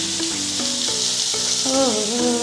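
Fish heads frying in hot oil make a loud, dense sizzle, with a voice speaking briefly over the crackle.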